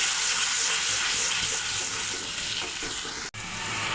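Water poured into a pan of frying spices for a fish curry gives a steady, loud hiss and sizzle throughout, broken by a brief sharp knock near the end.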